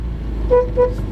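Two short, bright toots from a Renault 19 car horn in quick succession over a low engine-like rumble.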